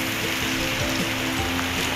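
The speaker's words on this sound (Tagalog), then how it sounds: "Ang patuloy po ang paglakas ng ulan pa rin" Heavy typhoon rain from Typhoon Uwan pours steadily in Valenzuela City, a dense, continuous hiss of downpour on surfaces with no break across the short stretch.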